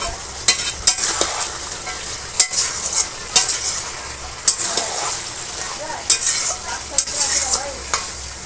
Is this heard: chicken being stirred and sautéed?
yes